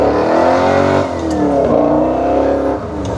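A giveaway truck revs hard on wet ground in a restoration shop setting, its engine roaring loud and close with rising and falling revs and no grip, continuous for a few seconds.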